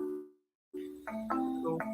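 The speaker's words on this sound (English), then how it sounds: "someone's ringing the office now" An office phone rings with a short electronic melodic chime, a tone dropping into silence followed by a quick series of rising and falling notes, moderately faint.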